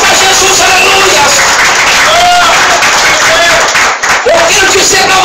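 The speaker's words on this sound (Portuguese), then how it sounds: "Mais alegre, mais forte as palmas para Jesus," Church congregation clapping together at a youth crusade service, a loud, dense continuous round of applause with cheering voices and crowd babble throughout, briefly dipping near the end.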